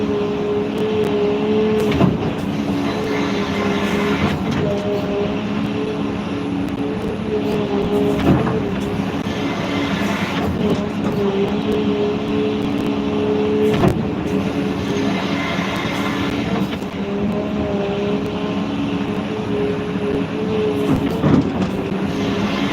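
A truck rolls along the road with a steady engine drone and road rumble, broken by occasional clunks and knocks, and a fault makes it keep pulling to the right.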